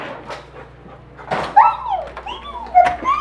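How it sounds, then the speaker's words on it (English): A dog whimpers and lets out a few short yips and barks indoors, the whines rising in pitch between sharper bursts, with household voices talking in the background. "But I know where the dog is."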